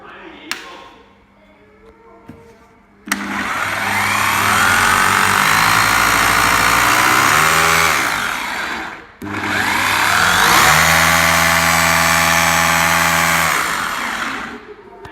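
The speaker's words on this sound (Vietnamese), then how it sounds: "Chức năng khoan bê tông." A Bosch GBH2-26 rotary hammer in concrete drilling mode starts with a few clicks, then whirs loudly in two long sustained runs with a short stop between, the motor tone shifting within each run.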